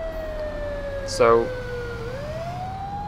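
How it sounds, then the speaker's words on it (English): A low-pitched Met Police siren mod in the video game LCPDFR holds a steady wailing tone that glides downward and back up, with a brief spoken word cutting in over it. "the last time I released one of these low-pitched Met Police sirens was like November 2012"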